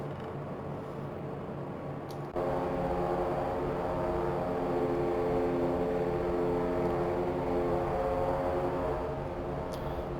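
Steady drone of a BN-2 Islander twin piston engine in a flight simulator cruise, loud and constant with a step up in level about two seconds in, no talking.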